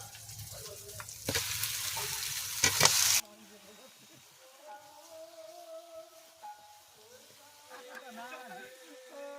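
Chicken pieces go into a pan for a desi-style curry with a loud burst of sizzling and stirring. The frying then settles to a quieter crackle beneath people talking.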